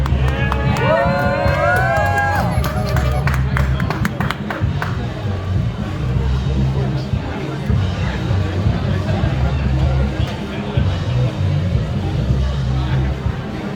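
Crowd at an outdoor pie eating contest cheering and whooping, a busy babble of voices with a shout rising early and a low hum beneath, ongoing throughout.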